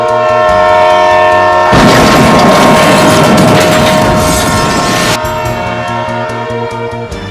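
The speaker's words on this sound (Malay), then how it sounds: "Tren penumpang menghentam van dengan kelajuan yang tinggi." Passenger train crashing into a van at high speed: a sustained, loud train horn blares over a rumbling rail roar, with a sudden harsh, noisy burst in the middle before the horn continues alone.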